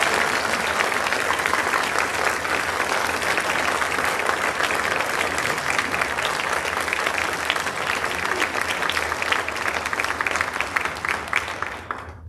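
A church congregation at Christmas Eve Mass gives a long, steady round of clapping that stays full and even for over ten seconds before tapering off at the end.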